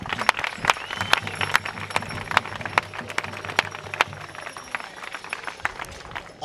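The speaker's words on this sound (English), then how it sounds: "That deserves a round of applause" Scattered audience applause at an outdoor Fort Monroe commemoration ceremony, sharp individual claps standing out over a thin crowd wash, moderately loud and fairly sparse.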